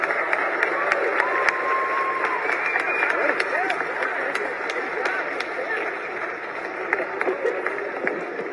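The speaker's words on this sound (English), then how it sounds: "Let's give Secretary Pete one more round of applause" An audience applauds at a public event in Las Vegas with the Transportation Secretary: a steady wash of many hands clapping, with sharper individual claps sticking out, lasting several seconds with no talk over it.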